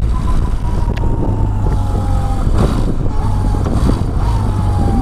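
Wind roaring and buffeting off the fairing of a Yamaha XS1100 motorcycle at riding speed, a loud continuous rush mixed with the bike's engine drone, close to the rider with no talk.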